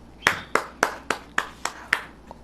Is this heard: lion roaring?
no